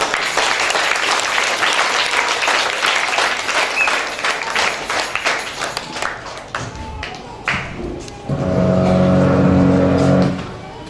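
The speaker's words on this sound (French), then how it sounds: "Pendant qu'elle est en train de passer, nous allons l'applaudir très fortement." A church audience at a Sunday school children's play in Kolwezi applauds a girl coming up to recite a poem; steady clapping fills most of the stretch, then thins before a louder sustained sound near the end.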